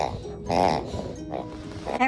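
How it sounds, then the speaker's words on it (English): A dog chews a squeaky toy pig in the background, producing several short, bright squeaks and grunting oink-like squeals spread irregularly over about two seconds, fairly close and moderately loud. "And that's Archie chewing on his pig in the background."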